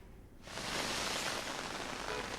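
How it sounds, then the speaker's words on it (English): Heavy monsoon rain in Delhi starts suddenly after a quiet moment, then pours as a dense, steady hiss of drops on surfaces, loud and close with no voices. "it's been raining here since morning over most parts of the national capital"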